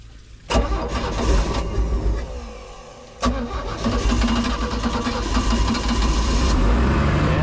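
A 1991 Four Winns boat's 4.3L engine being restarted out of the water on land: a sharp crank and catch, then a loud, steady running rumble with a brief dip and a second surge as it settles into a rough idle.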